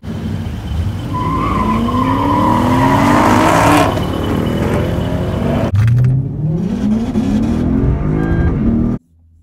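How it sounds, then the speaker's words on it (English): A 2012 Lexus IS F on Firestone tires launches hard. The engine revs loud and rising, with sustained tire squeal and skidding. Near and continuous for about nine seconds, then it cuts off abruptly. "I'm going to teach you all how I launch my ISF."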